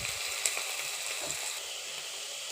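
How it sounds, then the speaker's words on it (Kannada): Two onions hit hot oil in a home kitchen while cooking mutton curry, giving a steady, close, bright sizzle that crackles continuously with faint stirring clatter and no talking. "ಎಣ್ಣೆ ಕಾದ ನಂತರ 2 ಆನಿಯನನ್ನು ಹಾಕ್ಕೊಂಡಿದ್ದೀನಿ."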